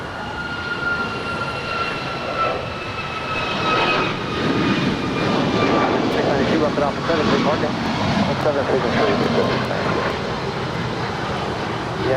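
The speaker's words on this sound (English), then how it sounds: "That is United 1897 departing to Chicago. It's a 2-year-old 737 MAX 9." A United Boeing 737 MAX 9, two years old, takes off from Los Angeles International Airport. The engine roar is loud and sustained and builds gently across the stretch, with voices faintly mixed in.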